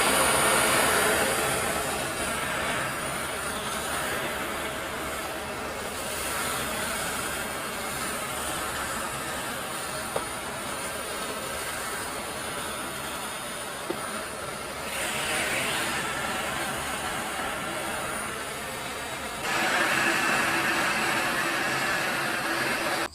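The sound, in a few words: heat gun heating PVC pipe for machete sheath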